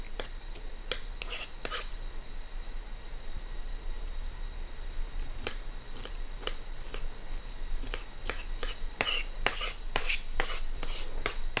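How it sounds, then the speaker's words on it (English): Rada knife chopping on a cutting board for a Mediterranean chicken salad, a string of sharp, close taps in uneven bursts that grow quicker toward the end, with no speech. "And then we'll chop that up."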